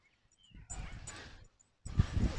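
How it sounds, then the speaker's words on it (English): A dog outdoors on a lakeside walk in a park gives two short bursts of sound, close and moderately loud, separated by a brief quiet gap. "there's a doggy."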